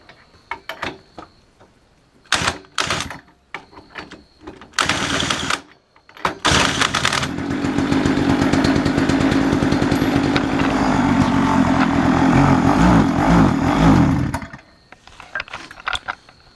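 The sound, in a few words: small mixed-fuel engine of a dump-found mini chopper starting and running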